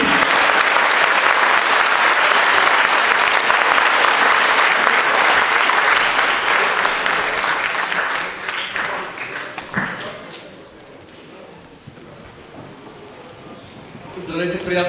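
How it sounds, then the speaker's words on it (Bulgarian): A big crowd at a GERB political rally applauds loudly and steadily, the clapping thinning and fading toward the end before a brief renewed burst. "Аплодисменти!"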